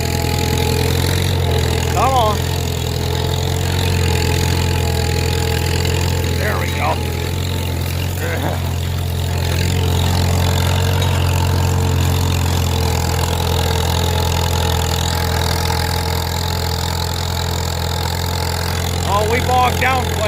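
A Farmall M tractor engine labors steadily while discing wet ground, a loud continuous low drone that holds throughout with slight load changes and a few brief clanks.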